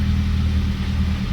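A Mazda Speed 3 with a newly installed downpipe idles while warming up, giving a steady, loud low engine rumble that continues unbroken through the brief moment.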